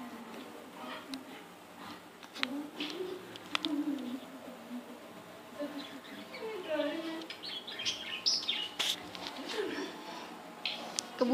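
Pigeons on a rooftop coo softly in low, rolling calls amid outdoor ambience, with occasional chirps and faint voices of children playing in the background.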